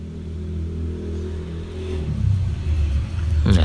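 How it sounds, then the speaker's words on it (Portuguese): A motorcycle approaches along a wet road, its engine rumble building steadily and growing louder toward the end as it draws near. "Vai vir uma moto aí."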